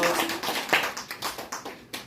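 A church congregation claps together in a short burst of sharp, quick hand claps, fairly close and moderately loud, rippling for about two seconds with no one talking.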